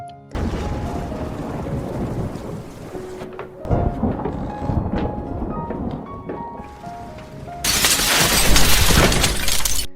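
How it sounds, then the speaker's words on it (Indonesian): A violent storm in a film scene, with thunder crashing and a big tree smashing down onto a painting studio, heavy rain and a loud roar that swells again near the end, no talk. "Listrik mati, petir yang bernyamber, dan pohon gede nimpa studio lukisnya."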